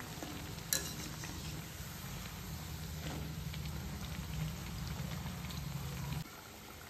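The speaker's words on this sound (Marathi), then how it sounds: "अशा प्रकारे मी सर्व वडे मंद आचेवर तळून घेणार आहे।" Raw banana flour vadas deep-fry in oil over a low flame, giving a steady, close, bubbling sizzle that holds evenly and then drops slightly quieter just before the end. No voices.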